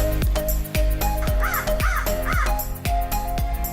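A crow in an animated thirsty-crow story caws repeatedly, several loud, harsh calls in quick succession over a steady musical background.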